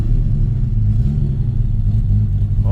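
Up close, a straight-piped 750 hp Nissan R32 Skyline GT-R idles with a steady deep rumble and a slight rise in revs, with no talk over it.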